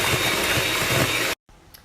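An electric mixer beats carrot cake batter with a loud, steady whirring motor drone and a slight rhythmic pulse, then cuts off abruptly, leaving quiet room tone and a faint clink.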